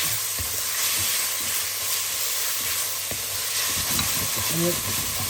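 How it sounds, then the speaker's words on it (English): Onions frying in a pan for a Sylheti-style fish curry, a steady close sizzle and hiss with occasional stirring clinks and scrapes. "So we're going to cook this until the onion is cooked off, translucent, soft."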